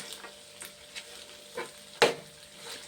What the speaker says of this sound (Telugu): చూడండి వేగిపోయినాయండి ఇవి. ఇలాగే అయితే చాలండి, ఒళ్ళిపోవాలి ఉల్లిపాయ ముక్క.